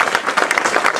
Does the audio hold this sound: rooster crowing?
no